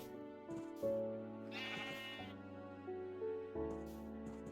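Sheep bleat in the Minecraft video game on a sheep farm, several wavering bleats layered over steady background music, with one prominent bleat in the middle and quieter ones around it.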